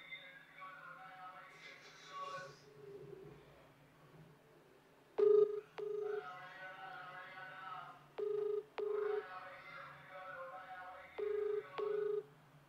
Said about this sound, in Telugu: ఒకసారి అన్నకు కాల్ చేద్దాం